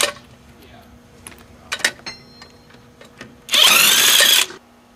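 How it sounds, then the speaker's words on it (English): A power tool loosens the lug bolts on a raised car wheel during a tire rotation: one loud, close whirring burst of about a second, after quiet shuffling and a few faint clicks. "you need to loosen all the bolts on the tire that is off the ground."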